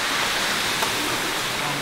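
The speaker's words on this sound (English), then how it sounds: "We've got this huge waterfall which falls down into that nice little lake" Broad steady roar of a large waterfall plunging into a small lake on the Levada do Caldeirão Verde trail in Madeira, heard up close as continuous rushing water with no break.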